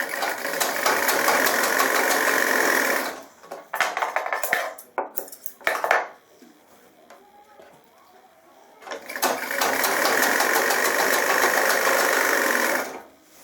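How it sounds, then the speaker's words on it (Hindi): A sewing machine stitches the crotch seam of a pair of trousers in two long, loud, steady runs separated by a quieter pause filled with clicks and handling noise. "अब मैं ये आपकी गिदरी की सिलाई लगा रहा हूं।"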